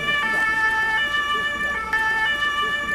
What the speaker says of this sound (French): Ouais, une ambulance!